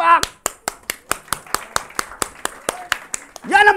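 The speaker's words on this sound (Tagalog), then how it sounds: "palakpak!" Rhythmic hand clapping during a church worship service, a steady run of sharp, loud claps at an even beat, with a voice speaking briefly at the start and again near the end.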